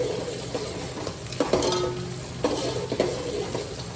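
Whole spices and shahi jeera leaves frying in oil in a pan for bagara rice, stirred with a few scrapes and metallic clinks over a continuous close sizzle.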